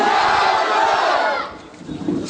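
A crowd at an election public meeting shouts a loud, roaring slogan response in unison that fades out, followed by scattered cheering.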